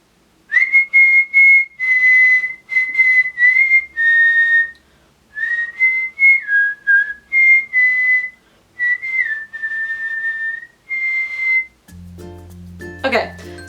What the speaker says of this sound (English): so I whistle a lot